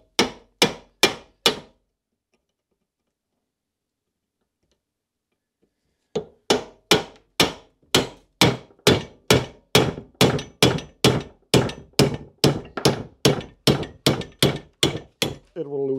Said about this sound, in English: by just hammering a chisel into the side of the cap like this